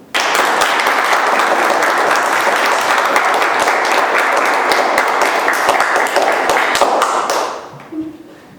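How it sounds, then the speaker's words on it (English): An audience gives sustained, loud, dense applause after a speech, the clapping holding steady for several seconds before dropping off abruptly near the end, where it tails into quiet. "I would like to express a little appreciation for what they've done by applauding them."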